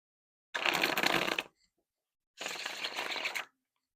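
Two separate bursts of tarot card shuffling, each about a second long with a brief pause between, crisp and close up.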